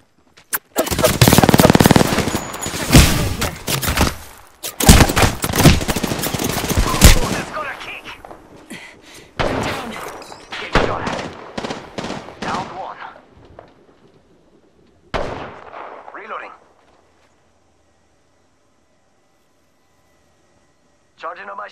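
Loud bursts of rapid automatic gunfire from an Apex Legends video game fight dominate at first, then thin into scattered volleys and single shots before falling quiet, with a voice talking over the shooting.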